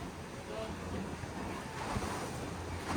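Choppy sea off Sorrento, Italy, washing against a cruise ship tender, a restless wash of waves mixed with gusty wind buffeting the microphone, fairly loud and continuous.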